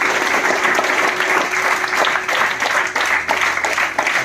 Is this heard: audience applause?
yes